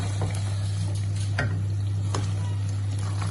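Turnip curry masala with green chillies frying in oil makes a low, continuous sizzle over a constant steady hum, with a few soft stirring scrapes.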